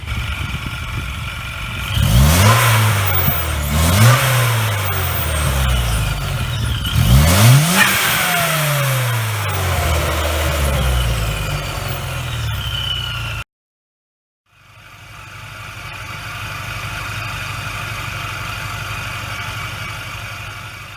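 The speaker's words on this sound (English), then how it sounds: "Get a couple shots of the under the hood while it's idling." A supercharged 2.4L 4G69 engine in a 4th-generation Mitsubishi Eclipse GS revs hard several times in rising and falling sweeps, then settles into a steady, loud idle after a brief silence.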